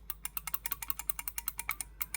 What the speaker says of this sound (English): It's a clicking sound.